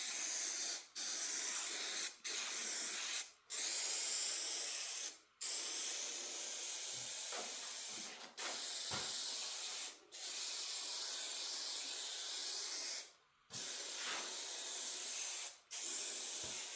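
Repeated long hissing bursts of aerosol spray adhesive onto wood, close and loud, separated by short pauses; about nine sprays in all.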